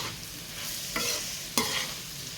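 Ivy gourd (dondakaya) fries in a pan with a steady, close sizzle, broken by two sharp scraping stirs of a spatula. No one talks.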